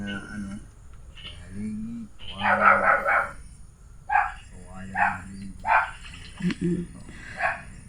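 A pet dog barks in a series of short, loud yelps spaced a second or so apart, with people talking around it.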